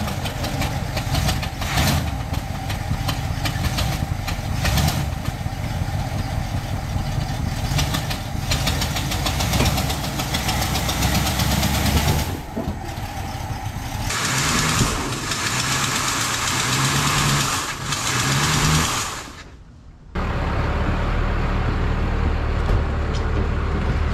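A 1967 Cadillac engine, after sitting unused for 15 years, turns over and settles into a loud, rough, knocking idle that runs steadily, briefly dipping before continuing.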